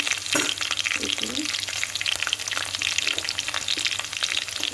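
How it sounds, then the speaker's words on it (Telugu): Onions sizzling and frying in a pan for a Telugu pesara punugula pulusu, a steady dense crackle with occasional stirring scrapes, close and continuous with no talk. "ఇది ఆనియన్స్ చూడండి బాగా వేగాయి."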